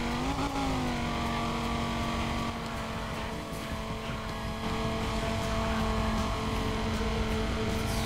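Race car in Need for Speed ProStreet, engine droning loud and close throughout with a sustained high whine and slight pitch shifts as it accelerates, no talking.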